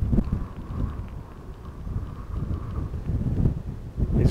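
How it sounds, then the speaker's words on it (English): Strong wind buffets a wireless clip-on microphone outdoors at the back of a boat on choppy water. Low, rumbling gusts roar steadily close to the mic throughout, swelling and easing with no speech. "It's really windy where I'm stood at the moment."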